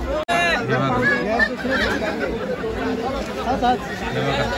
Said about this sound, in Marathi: गर्दी पण बघा खूप आहे